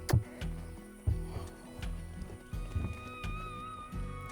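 A horse steps over a course of versatility obstacles, with heavy irregular hoof thuds and knocks, close by, alongside a faint steady high tone in the background.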